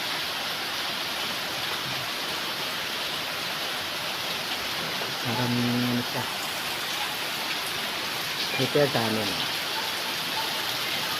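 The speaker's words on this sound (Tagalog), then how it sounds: "So medyo malalakas yung ulan ngayon." Heavy typhoon rain in Mariveles, Bataan, Philippines pours steadily as a dense, continuous hiss, with a voice speaking briefly over it.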